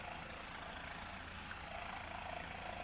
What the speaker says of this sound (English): the helicopter's landing over there in the clearing